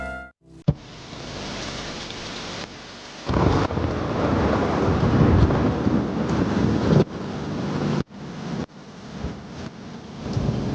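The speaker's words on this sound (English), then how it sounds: "It was a dark and stormy night." A film-style thunderstorm sound effect for a noir scene: rolling thunder with heavy rain and gusting wind building after a brief silence, loud and close, with a sudden cut near the end.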